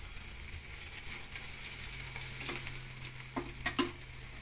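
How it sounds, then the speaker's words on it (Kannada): Wheat roti frying in oil in a pan, a steady soft sizzle with light stirring and scraping, plus a few sharper crackles near the end, moderately close, with no talking. "ಎಣ್ಣೆ ಸೋರೋಣ ಹಿಂದುಗಡೆ ಬೇಗನೆ ಫ್ರೈ ಆಗುತ್ತೆ"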